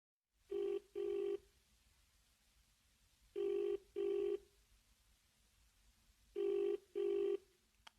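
A telephone rings on an outgoing call, three pairs of double electronic ring tones with quiet gaps between them, clear and alone.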